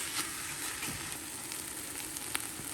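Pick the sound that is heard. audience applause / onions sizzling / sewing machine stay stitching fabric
onions sizzling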